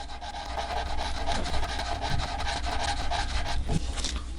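Sandpaper rubbing back and forth over a guitar finish with higher-grit paper, a close, steady rhythmic scratching hiss with no talk.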